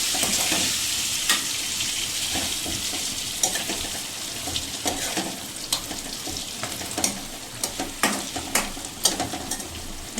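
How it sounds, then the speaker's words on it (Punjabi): Stuffed eggplant (bharwa baingan) fries in a pan over medium heat with a steady, loud sizzle, broken by repeated sharp scraping clicks as the contents are stirred and turned. "ਅਸੀਂ ਪੈਨ ਨੂੰ ਚਲਾਣ ਚ ਲੱਗੇ ਆ"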